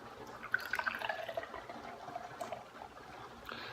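Big Lake Brewing Ramarillo Rye IPA, a 6.4% rye IPA, poured straight into a tulip glass, with a close, soft liquid splash and gurgle that steadily fills for a few seconds with light dripping bubbles.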